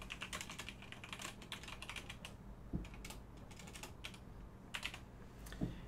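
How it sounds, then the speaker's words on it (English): Steady typing on a computer keyboard while entering metadata into Adobe Bridge, a close run of quick plastic key clicks with a few louder keystrokes standing out, no talking. "now we're going to start typing in information here"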